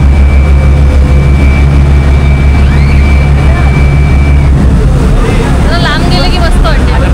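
Ferry boat engine at a Konkan jetty near Guhagar, a loud continuous low rumble throughout with wind and water noise, and people talking over it.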